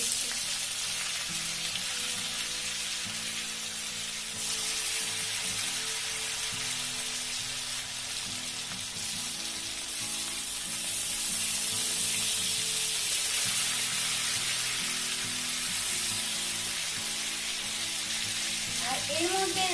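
Chopped tomato frying in a hot pan for a broccoli and hilsa fish oil-chili curry, a continuous loud crackling sizzle running throughout, with someone talking over it now and then.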